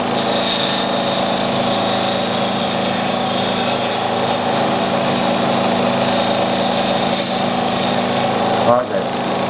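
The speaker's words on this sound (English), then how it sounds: "a simple way to roll these beads is just use your skew chisel as a scraper, go in at about 45 that way" A wood lathe spins steadily while a skew chisel, used as a scraper, rounds over beads, giving a continuous loud whirring hum with faint cutting scrapes and a brief knock near the end.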